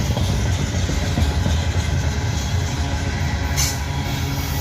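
A loaded coal train rolls by steadily, a continuous low rumble of wagons on rails, close and constant, with a brief high hiss near the end.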